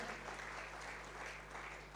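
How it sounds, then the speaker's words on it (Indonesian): Sustained applause from a congregation during an online Sunday church service, a steady wash of clapping that continues evenly for the whole stretch with no voices on top. "Beri tepuk tangan dong bagi Tuhan kita"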